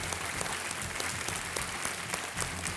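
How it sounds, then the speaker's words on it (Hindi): Studio audience applause welcoming a contestant to the hot seat on the Hindi quiz show Kaun Banega Crorepati, steady dense clapping filling the room throughout at moderate loudness. "तालियों के साथ इनका स्वागत शरद कुमार।"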